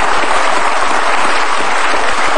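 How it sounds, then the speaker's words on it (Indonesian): A studio audience at an Indonesian talk show bursts into loud, dense, continuous applause that stays steady and unbroken throughout. "Sudah tepuk tangan."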